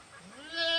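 A goat gives one short, rising bleat close up on a Filipino farm, brief and nasal, swelling louder toward the end and heard alone.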